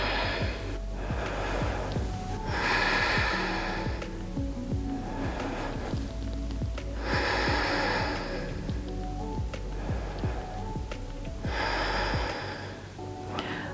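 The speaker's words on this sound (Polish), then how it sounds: "na 5 głębokich oddechów w pozycji wielbłąda" Deep, slow yoga breaths taken while holding camel pose, each a soft airy rush repeating roughly every two and a half seconds, steady and close over quiet background music.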